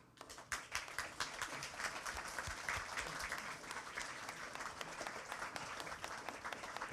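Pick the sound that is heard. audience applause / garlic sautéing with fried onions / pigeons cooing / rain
audience applause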